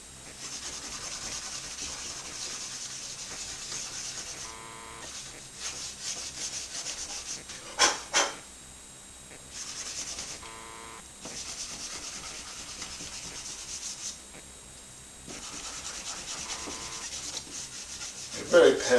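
Conte crayon dragged across a drawing surface in bursts of soft, dry rubbing and scratching strokes, with brief pauses and a few sharper taps between passes.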